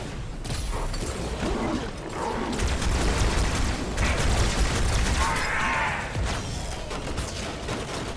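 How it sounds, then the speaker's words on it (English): Muffled booms and rattling gunfire in Halo 2 Anniversary on Xbox One form a dense, continuous battle din with mechanical clanks, fairly loud and without clear distinct blasts. "Okay, things are just exploding now."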